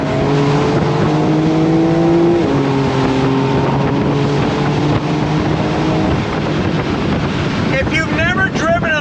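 Porsche 911 Carrera S (992.1) flat-six pulling hard on throttle with the top down, a loud steady engine drone rising in pitch under strong wind rush, with brief chirpy squeals near the end.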